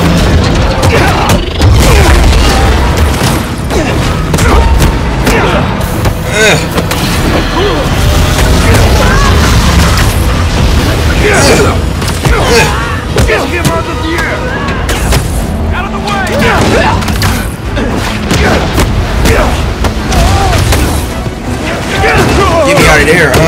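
Heavy booms and crashes from RPG explosions in the Spider-Man 2 video game, loud and continuous with dense impacts throughout, mixed with voices talking over the chaos.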